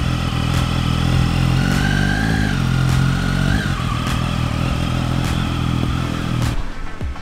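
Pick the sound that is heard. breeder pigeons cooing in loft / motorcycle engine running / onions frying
motorcycle engine running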